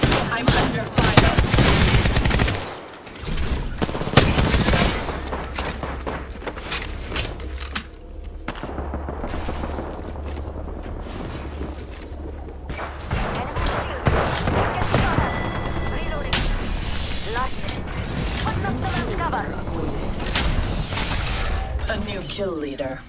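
Bursts of automatic gunfire and heavy thuds in the battle royale game Apex Legends, loud and dense, layered with game voice lines and other chatter for most of the stretch.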